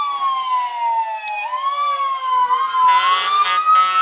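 A Wardell Fire Department truck at a Christmas parade: a wailing siren rises and falls steadily, then loud blasts of a vehicle horn cut in near the end, close by.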